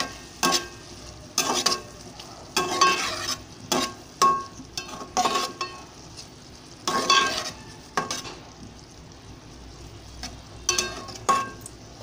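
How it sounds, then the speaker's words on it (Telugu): A teaspoon of ginger garlic paste fries in a pan for a prawn curry, a soft sizzle underneath bursts of spatula scraping that come and go in an uneven rhythm. "అల్లం వెల్లుల్లి పేస్ట్ 1 టీ స్పూన్ వేస్తున్నానండి. పచ్చివాసన పోయేంత వరకు ఇది వేయించుకోవాలి."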